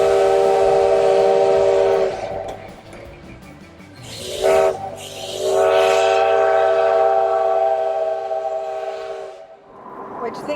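A train horn in the Black Hills sounds in long, loud blasts, breaking briefly and then resuming, with rumbling rail noise underneath.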